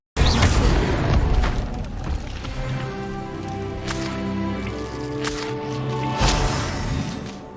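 A Confringo blasting spell in Hogwarts Legacy, a loud booming explosion with crackling, shattering debris, followed by sustained rumbling, tonal magic effects and further sharp impacts.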